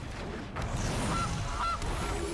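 Goose honk from the Gilded Goose card in MTG Arena, a couple of short nasal honks over low background game noise, fairly clear with no talking.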